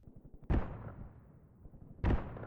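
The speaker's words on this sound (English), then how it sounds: "You can hear our mortars firing." On-map mortars fire in the World War II tactics game Graviteam Tactics, two deep booming launches about a second and a half apart, each with a rumbling tail that fades between shots.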